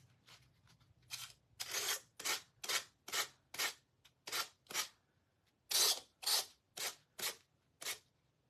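Low-grit sandpaper scrapes across paper during a decoupage holiday tree craft, about a dozen short, even rasping strokes in a steady rhythm with one brief pause midway, close and moderately loud with no talking.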